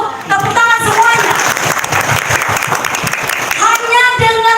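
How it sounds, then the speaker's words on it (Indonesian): Audience applause at a motivational testimony event, loud and continuous, with a voice heard over the clapping at the start and end. "Tepuk tangan semuanya."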